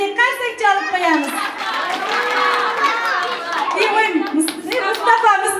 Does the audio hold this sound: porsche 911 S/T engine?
no